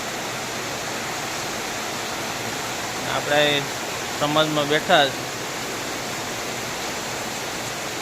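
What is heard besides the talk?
heavy rain falling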